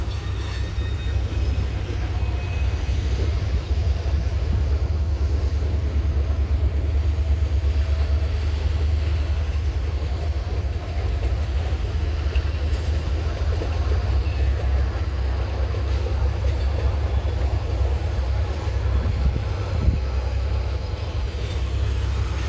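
Three Hershey freight locomotives back a string of cars up a hill, heard as a continuous low diesel rumble with steady mechanical noise from a distance, even and unbroken for the whole stretch.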